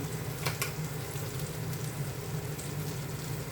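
Fish frying in oil in a pan alongside a curry with coriander leaves and taro greens, a steady close sizzle and crackle running throughout with no talk.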